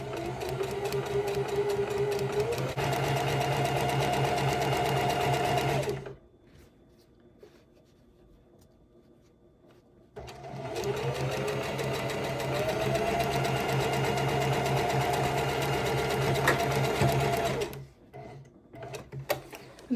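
A domestic sewing machine stitches ribbons onto a skirt in two long runs, its fast rhythmic whir and needle clatter loud and close, with a quiet pause between bursts and a short stop near the end.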